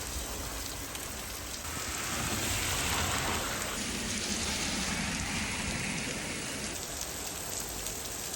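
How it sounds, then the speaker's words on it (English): Steady rain pours down in Pinerolo, a dense, even hiss that stays loud and close throughout with no voices. "Beautiful rain welcomed me."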